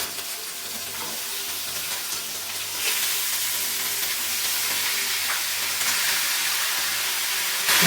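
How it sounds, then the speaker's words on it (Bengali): Chicken pieces fry in a pan of cooked-down spice masala, giving a continuous broad sizzle and steamy hiss that swells slightly partway through, with occasional stirring, steady and fairly close. "ভালোভাবে মশলা কষিয়ে নিয়েছি, এখন চিকেনগুলো দিয়ে দিচ্ছি।"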